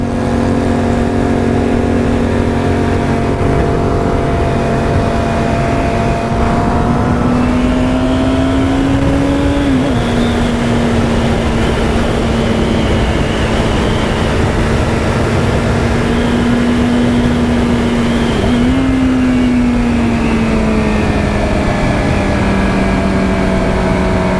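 Motorcycles race along the road, with a loud, close, sustained engine drone that holds a steady pitch and shifts gear twice, rising slightly each time, under constant wind rush.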